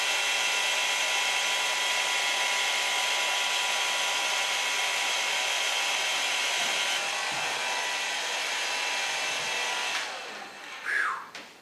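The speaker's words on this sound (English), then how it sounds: "Work with the diffuser, take the hairs up and just take the time to dry the hairs." Hair dryer with a diffuser drying permed hair, a steady airy whir that runs loud and unbroken for about ten seconds before cutting off with a brief shift in pitch.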